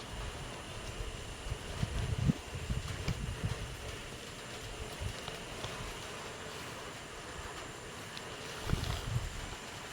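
Gusting typhoon wind over a rural area with banana plants, a continuous roaring rush with faint high whistling tones and buffeting microphone thumps, steady throughout with stronger gusts near the start and end.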